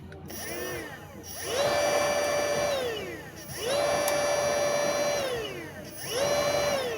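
An electric motor on a sensorless controller, battery-powered, spins up after switching on, giving three rising and falling whines that each hold steady, loud and close, with a faint mechanical rattle underneath.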